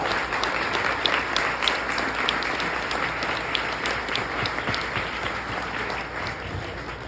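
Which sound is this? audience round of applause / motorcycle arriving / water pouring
audience round of applause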